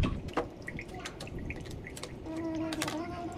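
Coconut water dripping slowly drop by drop from a young coconut, soft irregular drips and faint liquid trickles close by, with background voices murmuring.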